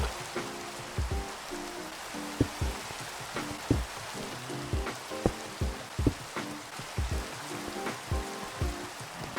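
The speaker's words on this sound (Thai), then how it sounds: "แถวนี้ฝนตกบ่อยมากเลยทุกคน ผมไม่คิดว่ามันจะตกบ่อยขนาดนี้นะ" Steady rain falls in a Minecraft survival world, a dense hiss of drops with regular low patters and splashes, even and continuous with no voices.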